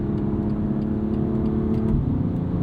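A 2021 BMW M2 Competition with a dual-clutch gearbox pulls hard from inside the cabin, its engine a steady, close, throaty drone that rises slightly before a brief shift near the end.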